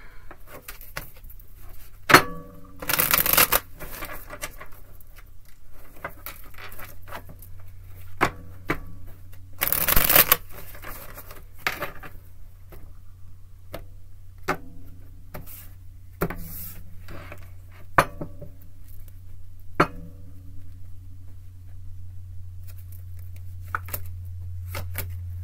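A deck of cards is shuffled repeatedly, with crisp riffling bursts and soft slaps and taps over a low steady hum.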